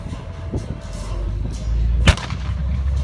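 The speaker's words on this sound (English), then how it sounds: "the M60 staying in firing position, trying to get a couple shots off" Tank gun firing during a Leopard 1 versus M60 Patton mock battle: a single sharp, heavy blast over a constant low engine rumble, heard from a moderate distance.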